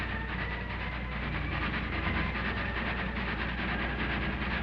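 A train runs steadily along a railroad line, a dense continuous rumble with faint rhythmic clatter, moderately distant and unbroken throughout.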